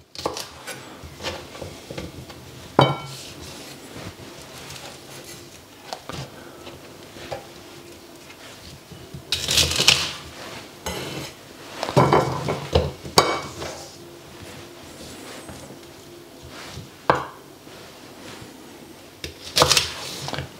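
A knife trimming asparagus spears on a cutting board, giving scattered sharp taps and clunks with quiet pauses between them, plus a few louder clustered chops.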